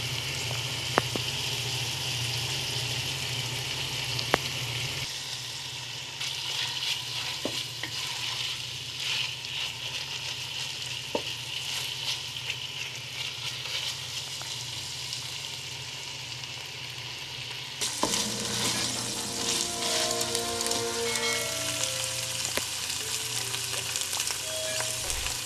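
Longaniza sausage sizzles and crackles steadily as it is stirred and crumbled in a saucepan for esquites. The frying turns noticeably louder and brighter toward the end.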